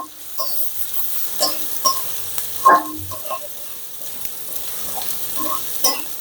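Chopped large shrimp are stir-fried with bottle gourd peel in a pan, a faint, steady sizzle with intermittent scraping and clinking of the stirring spoon against the pan.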